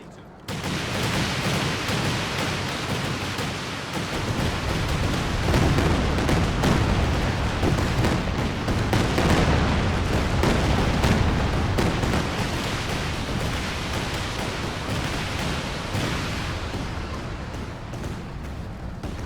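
Land Mattress rocket artillery firing in the Company of Heroes 2 video game, a dense continuous barrage of rapid launches and booming blasts that stays loud for the whole stretch.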